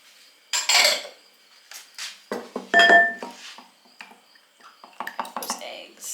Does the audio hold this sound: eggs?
yes